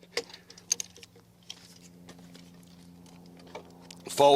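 A HiBoy collapsible bike is folded up: a lever is clicked and parts snap and tap in scattered sharp clicks, ending in a louder metallic clatter as the frame folds.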